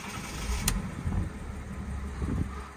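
A former ambulance Mercedes Sprinter V6 crew van cranks briefly and fires up, then settles into a steady, low idle heard close by at a fairly quiet level.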